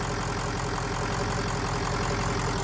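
A 600 hp diesel engine just started in a Ford Excursion build, running steadily at a loud, close idle with a constant rumbling knock and no talking.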